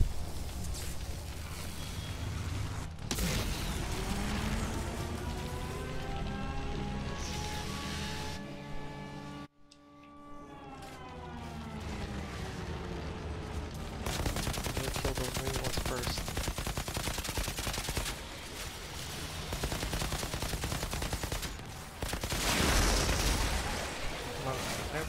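Explosive gunfire from the Outriders video game, with dense, loud bursts of shots and blasts running almost throughout. A short drop into near-silence comes midway, and a voice talks over parts of the action.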